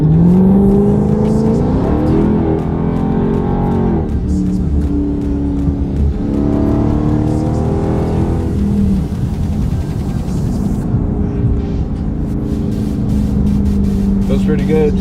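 The supercharged V8 of a Dodge Charger revs and pulls hard, its loud engine note rising and falling across several acceleration runs, heard from inside the car.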